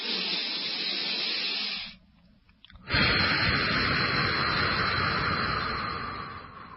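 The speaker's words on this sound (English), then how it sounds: "Basically, it's long, steady inhalations followed by long, steady exhalations." Close, airy breathing through the nose: a long steady inhale, a brief pause, then another long rushing breath. No one talks.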